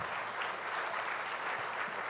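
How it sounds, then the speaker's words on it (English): Audience at the India Today Conclave 2024 conference breaks into warm applause, a dense, steady wash of clapping hands that fills the whole short stretch at even loudness. "Ladies and gentlemen, please raise a warm applause."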